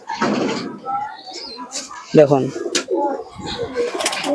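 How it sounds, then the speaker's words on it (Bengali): Pakistani pigeons in a loft give soft, close coos and a few murmuring calls while someone talks throughout. "খুবই সুন্দর কোয়ালিটির কবুতর"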